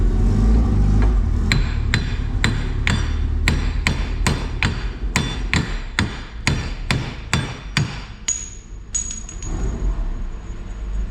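Hammer tapping a wheel bearing race off a van's hub flange: about twenty sharp metallic strikes in a steady rhythm, loud and close, with the final blows leaving a brief high ring.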